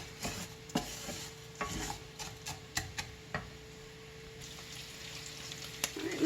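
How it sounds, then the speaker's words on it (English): Six strips' worth of bacon pieces are stirred in a pan, making faint, close, irregular scrapes and taps over a soft, steady sizzle, with no one talking. "I had 6 pieces of bacon, so I just went ahead and put all of those in there. Just going to keep stirring this."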